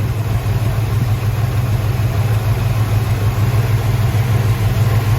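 A 1973 Plymouth Satellite engine idling after 31 years off the road, a steady close low rumble with an even pulsing throb and no variation.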